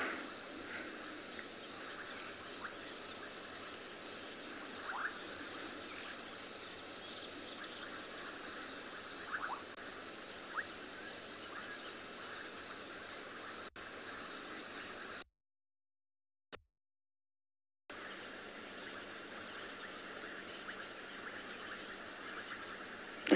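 Bubbling kassina frogs call through the summer night in repeated soft, bubbly notes against a steady chorus of insects, with brief quiet gaps.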